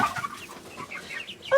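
Chickens cluck in a henhouse, with several short, close clucks and squawks coming in an irregular rhythm over quiet background sound.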